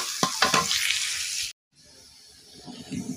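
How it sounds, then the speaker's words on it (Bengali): Chopped onion and garlic fry in hot oil with a bright close sizzle and a few stirring scrapes, then after a brief cut a quieter sizzle resumes and slowly builds, with no talking. "এখন দিয়ে দেবো পেঁয়াজ কুচি আর দিয়ে দেবো রসুন কুচি। এখানে কিন্তু আমি রসুন আর পেঁয়াজ কুচি দিয়ে দিচ্ছি। এবার এগুলো আমি লাল লাল করে ভেজে নিব।"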